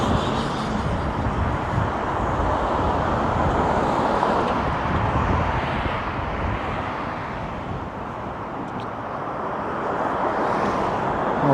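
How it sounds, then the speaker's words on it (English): Continuous road traffic on Eastern Avenue in Toronto near construction, a steady broadband rush of passing cars with low rumble, swelling and easing slightly, no voices. "Got never-ending traffic, never-ending construction nonsense."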